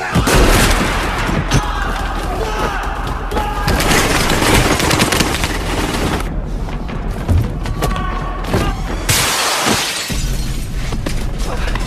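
Dense, loud bursts of gunfire with booms and shattering impacts fill an action-movie fight scene among gangsters, continuous with brief gaps of quieter thuds.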